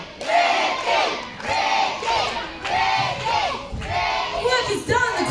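A wrestling crowd at a holiday-park show in Wales roars and shouts without pause, a dense wall of cheering voices with yells rising and falling in waves over the whole stretch.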